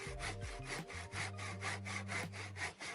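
A hand saw cuts wood held on a bench hook, with rapid, steady back-and-forth rasping strokes close up and no other sound.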